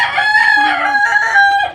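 A rooster crows loudly and close by, one long strained call with harmonic overtones, standing alone.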